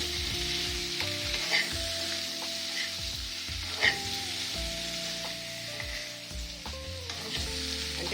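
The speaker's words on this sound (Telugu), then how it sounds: "మసాలా వేగిందండి ఈ దుంప ముక్కలన్నీ వేసి కొంచెం అటు ఇటు ఒక టూ మినిట్స్ ఉంచి తీసేస్తాను" Potato pieces fry in spiced masala while being stirred, a loud close sizzle broken by repeated scraping and clanking of a utensil against the pan, no talk.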